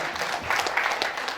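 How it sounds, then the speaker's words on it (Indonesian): An indoor audience at a company family gathering claps together in a short, steady burst of applause, evenly sustained for just over a second. "Sekali lagi beri aplaus untuk beliaunya"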